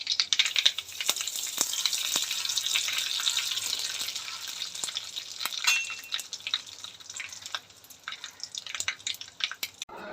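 Garlic with a little water spluttering in hot oil in a pan, already holding mustard seeds and curry leaves, sharp crackling pops over a steady sizzle, close and loud, with bursts thinning toward the end.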